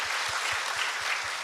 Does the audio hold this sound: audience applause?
yes